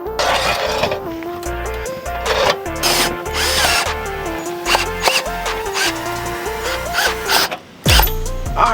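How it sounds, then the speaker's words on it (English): A power drill whirs loudly in repeated bursts while raising a motorcycle lift, its pitch rising and falling with the load, with brief pauses and mechanical clunks between runs. "then lift it up with the drill"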